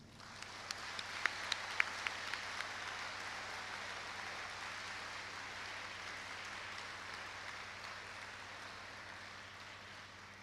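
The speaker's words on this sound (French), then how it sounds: "à nous de lui témoigner notre reconnaissance par ce concert d'applaudissements" Sustained applause from an audience following a speech at a UNIFA address, a dense steady wash of many hands clapping with a few sharper claps standing out early on, heard from a distance and continuing evenly throughout.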